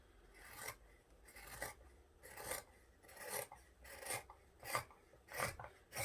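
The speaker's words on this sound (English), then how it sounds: "now we want to trim the seam allowance down to about 1/4 inch" Fabric seam allowance on a tote bag being trimmed, a steady series of about eight rasping cuts at a regular rhythm, close and quiet, with no talking.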